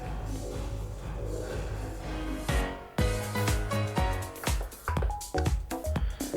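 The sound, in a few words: reverb effect on DJ mix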